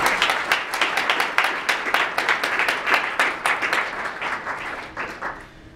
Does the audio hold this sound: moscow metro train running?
no